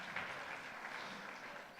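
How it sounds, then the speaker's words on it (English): Applause from an audience at a civic event honoring a mayor, a brief, even wash of clapping that fills the moment with no voices over it. "That's a round of applause for this mayor."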